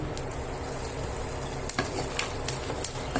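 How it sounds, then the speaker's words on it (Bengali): Mustard seeds and asafoetida hitting hot oil for tempering, with curry leaves already in the pan, giving a steady soft sizzle with a few sharp pops and crackles, fairly quiet and close. "তারপরে দিচ্ছি সর্ষে ফোড়ন। এবার আমি দিচ্ছি হিং।"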